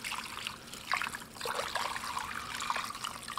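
Water is poured over cabbage in a slow cooker, a close trickling and splashing stream that runs steadily for a few seconds with small surges.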